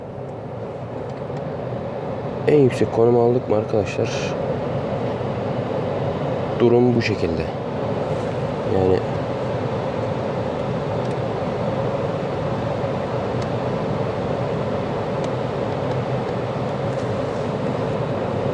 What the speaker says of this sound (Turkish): Klima sesli mi çalışıyor bir bakalım